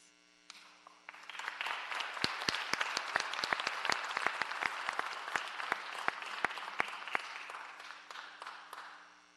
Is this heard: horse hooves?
no